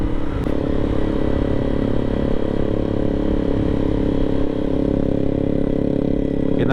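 Motorcycle engine droning steadily nearby on a winding, banked mountain road near Caliraya Lake, Laguna, a continuous hum with slight revving and clatter, no voices over it.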